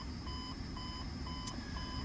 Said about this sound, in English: I hear and see the low air alarm here right around 60 psi.